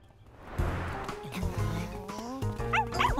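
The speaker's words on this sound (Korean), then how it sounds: "강아지 소리야." A white, fluffy cartoon puppy barks and yips in short, close, high-pitched bursts, with whimpering squeals toward the end.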